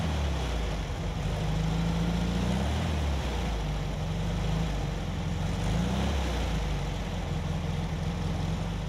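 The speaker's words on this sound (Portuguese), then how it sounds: "É um carro que ainda ronca forte." A steady Volkswagen Beetle engine drones at low pitch throughout, a continuous rumbling hum with slight wavering, fairly close and loud, no voices.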